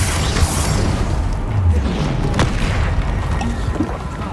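A Bombarda spell explosion in the video game Hogwarts Legacy: a loud, low booming blast with rumbling debris that fills the whole clip, with a sharp crack midway.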